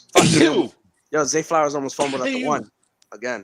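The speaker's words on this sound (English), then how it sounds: "You sneeze, bless you" One sharp, forceful sneeze opens the moment, followed by someone talking casually about football.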